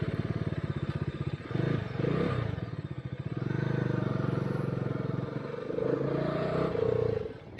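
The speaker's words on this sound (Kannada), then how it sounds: "ರನ್ನಿಂಗ್ ಅಲ್ಲೇ side stand warning light on ಆಗಿ ಗಾಡಿ ಆಫ್ ಆಗ್ಬಿಡುತ್ತೆ" A Bajaj Dominar 400 motorcycle idles with a steady, fairly loud engine rumble whose level rises and falls, with a brief dip that suggests the running engine cutting out. Some light clatter sits beneath it.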